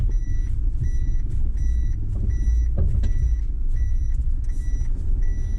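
A Fuso Canter 4x4 truck backs up off-road, its reversing alarm beeping in a steady repeating series over the loud, constant rumble of the engine.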